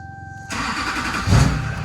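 A Chevrolet Silverado with a Duramax diesel engine cranks and fires up inside a shop. A quiet tone is followed by the starter catching, and the engine catches loudly and then swells in a brief rev, close by.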